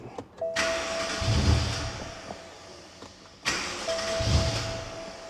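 BMW engine running rough with two ignition coils unplugged, cranking and firing in two uneven bursts with a faint whine and irregular low chugging, close and moderately loud.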